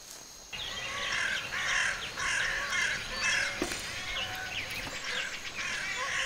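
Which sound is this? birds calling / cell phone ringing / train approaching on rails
birds calling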